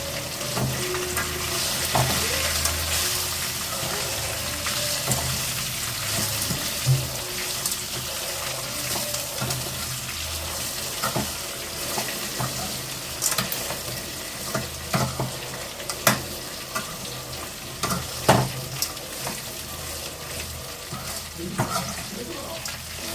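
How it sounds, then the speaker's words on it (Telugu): Okra and peanuts fry and sizzle in a pan, a steady crackling hiss broken by sharp scraping knocks as a spoon stirs them, continuing for over twenty seconds. "కారం వేసుకొని ఒకసారి మిక్స్ చేసుకొని ఇలా కొంచెం ఇందులో ఫ్రై చేసుకోవాలి"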